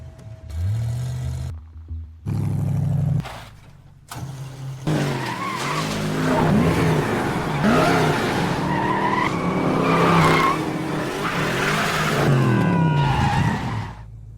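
A car drifts on an airport runway, tires squealing and skidding in long wavering screeches over a roaring, revving engine, loud and close, after a few abrupt bursts of engine noise at the start.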